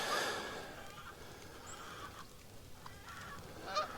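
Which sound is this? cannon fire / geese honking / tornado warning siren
geese honking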